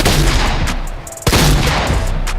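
Shotgun fire in the video game Fortnite during aiming practice against stationary targets: loud, dense gunfire bursts fill the stretch, with one sharp, heavy blast standing out partway through.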